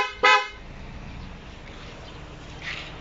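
A newly installed horn on a Suzuki Ertiga car gives one short, loud, bright honk near the start, then only low idle rumble and faint background noise follow.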